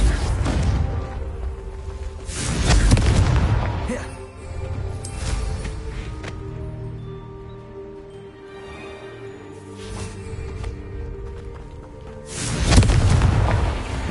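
Confringo blasting spell explosions in Hogwarts Legacy: three heavy booms with whooshing bursts, one early, one midway and one near the end, each rising over a low, steady tonal game soundscape.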